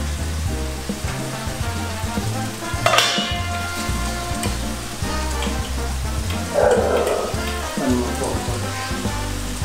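Chopped vegetables, carrot among them, hissing in oil in a cooking pot for a Guanche-style chickpea stew, a steady broad sizzle with a burst of louder crackle as more goes in, close and continuous with no talk.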